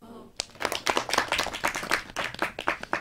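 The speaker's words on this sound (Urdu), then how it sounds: "تو تالیاں بجا دیجیے" Audience applause at the end of a children's story told on a radio-style show, a burst of claps starting sharply and continuing steadily, fairly close and lively, with no talk over it.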